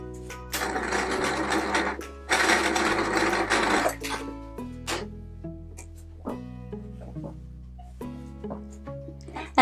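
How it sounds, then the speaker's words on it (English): Sewing machine stitching quilt patchwork pieces: a steady motor whir runs in two long bursts, followed by shorter stops and starts with faint clicks as the fabric is repositioned. "I'm now going to stitch this bottom piece to the bottom of the centerpiece and then this piece to the side."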